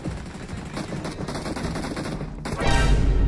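Video game gunfire, dense rapid bursts of shots running steadily throughout, swelling louder near the end, with no speech.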